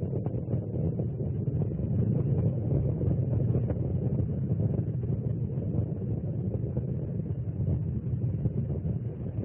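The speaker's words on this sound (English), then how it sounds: "Three engines on Endeavour now back at full throttle." Space Shuttle Endeavour's three main engines at full throttle during launch, a steady, dense, distant roar with a deep rumbling low end that stays even throughout, with no talk.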